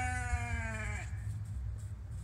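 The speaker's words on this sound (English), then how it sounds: "Sheep, why are you making noise?" A sheep bleats for its lamb on a farm, one long, loud, wavering cry lasting about a second, followed by steady low background rumble with no further calls.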